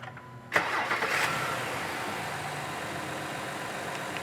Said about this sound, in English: So we'll start the car.